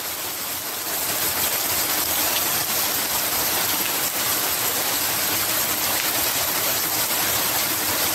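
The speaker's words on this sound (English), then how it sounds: "I am happy that the rain is falling" Rain falls steadily outdoors, producing a loud, unbroken hiss that holds at the same level from start to finish.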